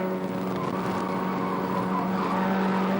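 A race car in the 1987 Willhire 24 Hour Race corners left then right, its engine droning loud and steady throughout with a continuous tyre squeal layered on top.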